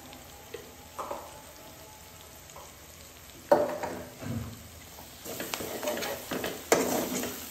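A spicy masala gravy with ground garlic paste and fenugreek leaves cooks over a low flame in a pan. It gives a soft, steady sizzle, broken by several louder scraping stirs near the end.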